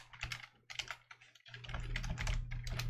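Keys clatter on a computer keyboard in quick uneven bursts of typing, with a short pause near the middle and a steady low hum underneath that grows louder in the second half.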